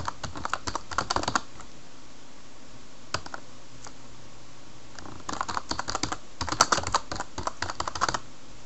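Computer keyboard typing while a first name is entered into a form: two bursts of rapid, close key clicks with a pause of scattered single taps between them, no voices.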